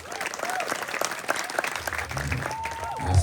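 An audience claps throughout a Balinese wayang calon arang shadow-puppet performance, dense and lively applause with a few tonal voices and calls mixed in, building louder toward the end.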